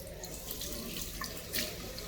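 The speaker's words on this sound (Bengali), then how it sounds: "দেখুন, হাত রাখলেই কিন্তু জল পড়বে," Automatic sensor tap running water into a washroom sink in Muscat, Oman, a steady close hiss of flowing water splashing into the basin throughout, with no talk.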